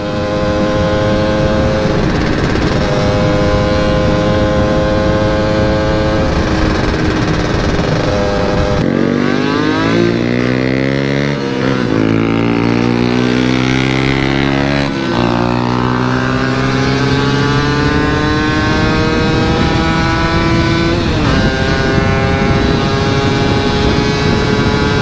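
A Yamaha F1Z R two-stroke motorcycle engine revs hard and close, its buzzing whine climbing and falling through repeated throttle blips, loud and sustained throughout.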